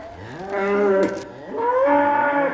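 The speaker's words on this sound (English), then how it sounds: "they'll stick their nose in the air, moo a lot" Cattle on a farm mooing near a feeder, two long, loud, low calls one after another, close by, with no talking.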